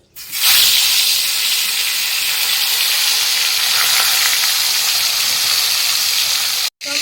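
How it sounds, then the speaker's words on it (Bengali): Fish frying in hot oil in a kadai gives a loud, steady sizzle that starts abruptly and runs unbroken close to the pan, then cuts out briefly near the end. "তো আমার তেল গরম হয়ে গেছে এখন আমি মাছগুলো ভেজে নেব"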